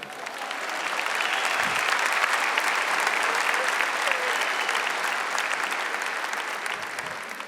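An awards-show audience in a large hall applauds in a sustained burst of dense clapping. The applause swells and stays steady throughout, with a few faint voices in the crowd.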